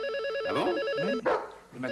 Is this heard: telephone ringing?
yes